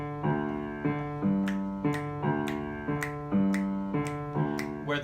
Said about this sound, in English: So the tumbao, if you don't know what that is the syncopated bass line that sounds something like